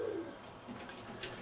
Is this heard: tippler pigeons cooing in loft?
yes